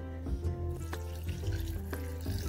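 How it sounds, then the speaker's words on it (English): A kitchen tap runs water into a pot while making a healthy vegetarian pasta sauce, a continuous close stream punctuated by a few knocks and clinks of cookware. "And I'm just going to add some water."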